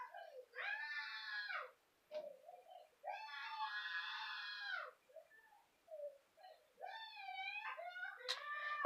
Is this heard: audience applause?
no